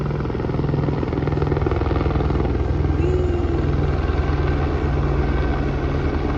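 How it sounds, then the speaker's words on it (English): A loud helicopter hovers close above, its rotor chopping in a steady, heavy thrum that fills the whole scene. "oh my God, this loud ass helicopter"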